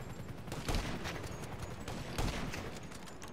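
Distant gunfire in GTA V online play, a few muffled booming shots spaced apart amid a dense crackle of background game noise, faint overall.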